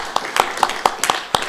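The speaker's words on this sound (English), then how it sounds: "a round of applause for Louis Fishman" Applause for Louis Fishman at the Williger Memorial Shabbaton: a few sparse, distinct hand claps in a loose rhythm, close and moderately loud, with faint voices underneath.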